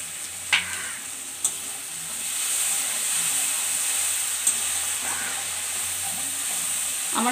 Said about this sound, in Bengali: এই মশলাতে সামান্য হিং দিয়ে দিব, হিং দিয়ে আর এক মিনিট মতো মশলাটা ভেজে নিব।